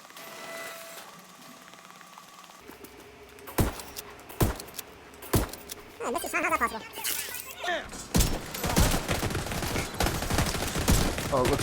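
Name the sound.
enemy gunfire in video game The Division 2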